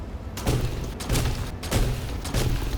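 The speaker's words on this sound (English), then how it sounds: "So we got our sprout cannon." A sprout cannon in the farming video game Lightyear Frontier fires in a steady rhythm of four or five punchy thumps, each with a short burst of noise, evenly spaced and fairly close.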